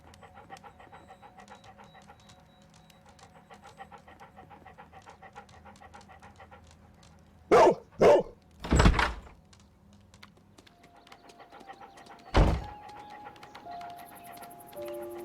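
Dog panting steadily in the Sherlock Holmes: Crimes & Punishments video game, followed by a few loud, sharp barks in quick succession and one more bark a few seconds later, close and clear over quiet game ambience.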